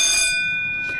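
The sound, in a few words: school bell ringing for wet play, not a fire alarm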